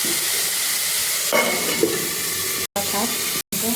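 Cooked rice frying in a pan without water hisses and sizzles steadily and loudly up close, with a few stirring scrapes and two brief cuts of silence.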